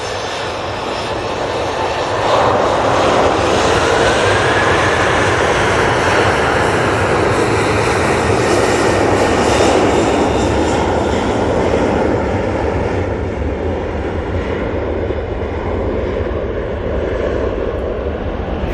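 A Singapore Airlines airliner passes at Manchester Airport, its jet engines building into a loud, sustained roar with a slowly shifting whine that holds for many seconds before easing slightly.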